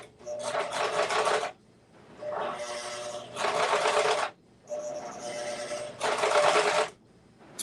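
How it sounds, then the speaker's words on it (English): Sewing machine stitching fabric along a top stitch with an elastic edge, running in three loud, fast bursts of rapid needle clatter separated by short pauses. "I'm going to have to stitch really close to the top stitch"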